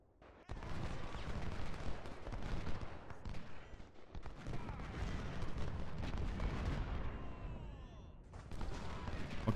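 12-pounder cannon artillery fire in Ultimate General: Civil War, a continuous barrage of booming shots and crackling volleys overlapping throughout, with loud heavy thuds among distant rumbling.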